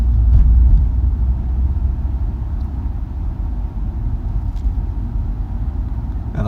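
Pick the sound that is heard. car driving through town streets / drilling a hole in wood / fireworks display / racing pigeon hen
car driving through town streets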